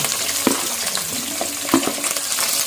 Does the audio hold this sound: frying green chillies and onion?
yes